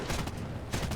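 Rapid bursts of MG 151/20 cannon fire from a Bf 110 G-2 in War Thunder, a dense rattling stream that pauses briefly and then resumes, heard at moderate level.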